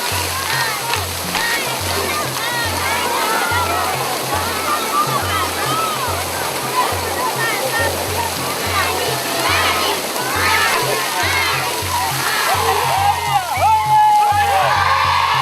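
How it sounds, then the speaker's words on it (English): Water gushes and splashes steadily and loudly from a newly drilled deep well being flushed, a constant rushing torrent with a low rhythmic thumping of machinery underneath. "the school children marvel at the flushing of the well after successful drilling"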